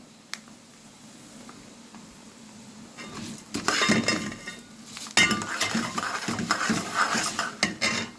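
Browned rice being stirred in a pot before broth goes in, a quiet lead-in giving way to bursts of scraping, clinking utensil strokes against metal, fairly close and loud, with no talk.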